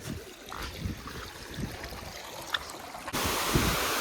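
Continuous rushing and gurgling of a rain-fed stream, fairly close, becoming louder and brighter near the end; no voices.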